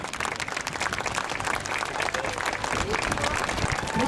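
Crowd applause for Bartek at an outdoor children's festival police demonstration after a hostage rescue, a dense, continuous clapping with crowd noise and voices mixed in.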